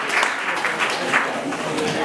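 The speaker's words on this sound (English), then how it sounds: "let us clap to the physics students as well" A crowd claps for the physics students at an event, dense applause running under voices and fairly loud and close throughout.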